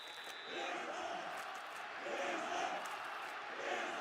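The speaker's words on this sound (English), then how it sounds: "Crowd is chanting Islam." Crowd chanting at a title fight, a distant roaring mass of voices rising and falling in waves under nearby commentary.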